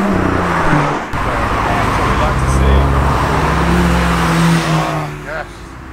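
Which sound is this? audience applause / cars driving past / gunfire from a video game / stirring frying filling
cars driving past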